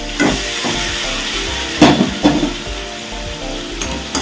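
Ivy gourd greens hiss gently in a pan with fried shrimp while a utensil stirs, giving a few sharp scrapes and knocks against the pan.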